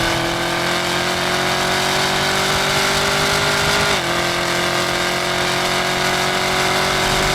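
A 2020 Chevrolet Camaro ZL1 1LE is heard from inside the cabin as a loud, steady supercharger whine and exhaust drone, with a brief dip midway as the pitch shifts.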